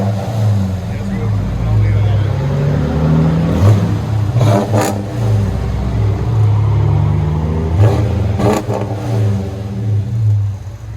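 A 2018 Dodge Charger R/T with the 5.7L V8, AWD and a muffler delete rumbles loudly and steadily, with several sharp revs rising above the low exhaust drone, and some voices heard over it.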